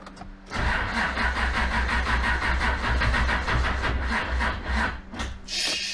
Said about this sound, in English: All right, I turned the power steering off just so I can get the car started.